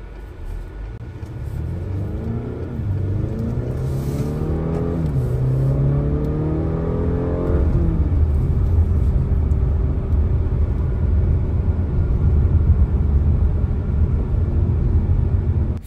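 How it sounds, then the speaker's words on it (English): A 2024 Acura RDX Advance with a 2-liter four-cylinder turbo at full throttle, engine note climbing through the gears in rising sweeps and dropping at each shift, then a steady loud roar with heavy road rumble inside the cabin. "we're going to floor it and see how well this handles around the curve"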